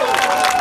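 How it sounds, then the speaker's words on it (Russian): Crowd cheering and applauding at an amateur MMA fight event in Kotlas, a steady dense wash of noise that fills the whole short moment loudly, with no break or quiet gap. "ваши аплодисменты!"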